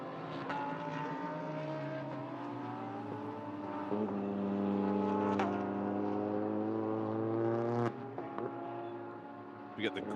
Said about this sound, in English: Lots of grunting from cars